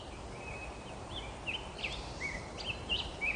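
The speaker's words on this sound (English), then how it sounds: "listening to the birds" Birds sing outdoors near a rural outbuilding, with faint, scattered high chirps and short tweets over a soft, steady background hiss.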